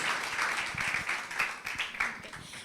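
A church congregation applauding to welcome someone speaker, a fairly faint, uneven patter of clapping from a modest crowd lasting a few seconds.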